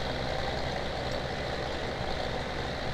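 An older tractor pulling a modern harvester in the video game Farming Simulator 17 gives a steady, droning engine hum that holds constant with no pauses or other sounds.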